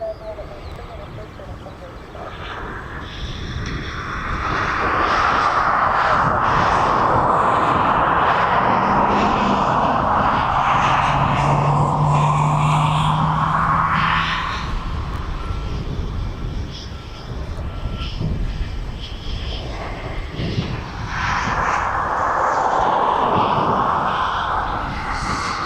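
An aircraft on approach to land at East Midlands Airport, a distant engine rumble that builds to a loud, steady roar, eases briefly, then swells again as it draws nearer.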